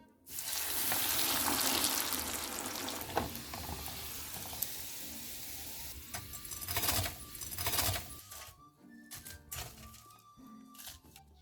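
Cheese cigarettes frying in hot oil give a loud, steady sizzle at first, then the frying fades to a quieter bubbling broken by a few utensil clinks and scrapes.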